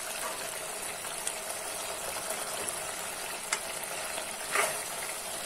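Boti gongura masala with dhania powder and red chili powder frying in a pan, a steady close hiss of sizzling oil with a few soft clinks and scrapes of a spoon.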